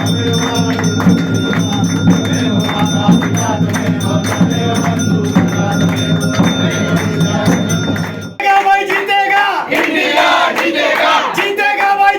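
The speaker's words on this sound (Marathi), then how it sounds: "सर्वांनी एकत्रित येत इंडिया इंडिया अशा घोषणा दिल्या" Cricket fans gathered at the Kasba Peth Ganpati temple in Pune chant together for India to win the World Cup, a loud, dense crowd chant that continues steadily before shifting to a different mix of cheering voices.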